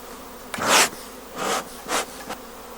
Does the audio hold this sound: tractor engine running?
no